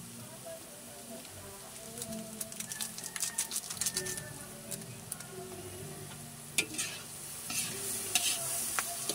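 Adobong sitaw, string beans frying in a pan, sizzles with a steady hiss while a spatula stirs in bursts of rapid scraping and clattering, close and moderately loud.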